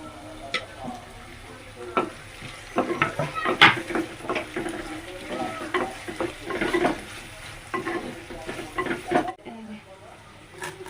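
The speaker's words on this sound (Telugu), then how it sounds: "ఇప్పుడైతే ఇంకా నేను టమాటా ముక్కలు అయితే ఇలా కట్ చేసుకున్నాను కదా, ఇవి అయితే వేసేసుకుంటాను" Tomato pieces frying with softened onions in a pan while being stirred, giving steady sizzling with repeated clinks and scrapes of a spoon against the metal, close and fairly loud.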